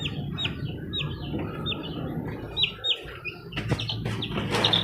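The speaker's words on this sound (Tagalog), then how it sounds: "Yan yung tatay ng mga sisiw natin, si Gray." Chickens and chicks cluck and peep around a farmyard, a rooster among them, with repeated high chirps from the chicks over lower clucking and scattered rustling, fairly close and continuous.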